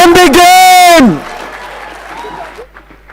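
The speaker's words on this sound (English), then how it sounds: "give it a huge round of applause so Pranjal can begin." A loud sustained vocal tone gives way to audience applause at a business conclave, with the clapping fading to a faint patter.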